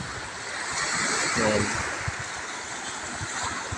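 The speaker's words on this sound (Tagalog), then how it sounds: "napakasarap pakinggan ng hampas ng alon" Ocean waves wash steadily onto the shore at Asinan Beach in a broad, continuous roar with wind noise over the microphone, while a voice speaks briefly.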